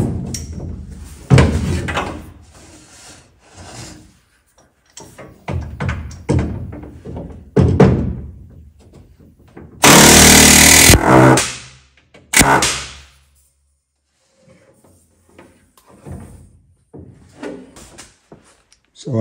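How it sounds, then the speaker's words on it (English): An air hammer sets rivets joining a Corvette firewall to the lower window frame, with one loud harsh burst of about a second among scattered knocks, thuds and talk. "I'm gonna show you how I do a rivet with a air hammer."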